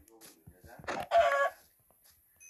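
A Minecraft chicken gives a short burst of clucks in the game, close and fairly loud, with scattered clicks and game noises around it.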